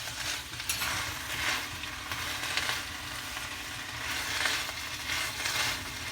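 Sunflower leaves fry in olive oil in a pan, a steady close sizzle and crackle running throughout with gentle swells, no voices.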